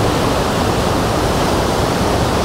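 A steady, loud roar of rushing, falling water from a waterfall in New Athos, Abkhazia, fills the clip without a break, close and dense.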